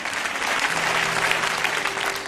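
A church congregation applauds, a dense, even patter of many hands clapping at steady volume, with a faint sustained tone beneath.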